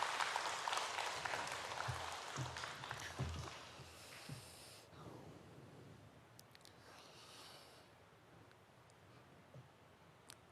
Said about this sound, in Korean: 방경의 법사스님께 모두 감사의 큰 박수를 올려주시면 감사하겠습니다.